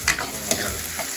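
Onions frying in a pan for rajma, a steady close sizzle broken by a few quick scraping stirs of a spoon, without any voices.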